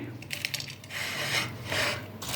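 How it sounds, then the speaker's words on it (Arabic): Crisp, crackly crunching of crispy fried chicken wings being bitten or broken, in a few close bursts with scraping texture and no talking. "سامعين كده صوت الخروشة والقرمشة دي."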